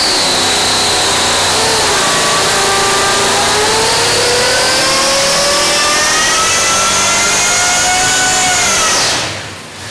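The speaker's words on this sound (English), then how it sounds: "we're building a monster of a big blown" A big blown 572 second-gen stroker Hemi topped with a 10-71 Roots blower revs hard and loud up close, a sustained rising supercharger whine and engine roar that climbs steadily before abruptly cutting off near the end.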